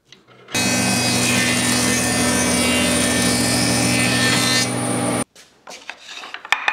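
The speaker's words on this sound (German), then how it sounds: "Ich schleife jetzt gerade noch die ganzen Grate ab" Sanding off burrs on a wooden part for a homemade bandsaw tensioning device, a loud, steady abrasive whir from a power tool that runs for about four and a half seconds and then cuts out, followed by light handling knocks.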